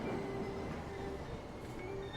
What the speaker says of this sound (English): Oh, I guess we better ride the train